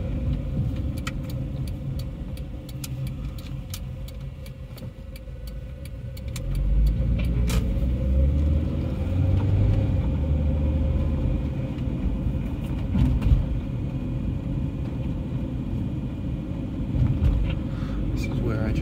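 A 1996 Honda Orthia with a B20B engine and front-wheel drive drives along and brakes, its steady engine and road rumble swelling midway and continuing near and fairly loud, with faint rattles over it.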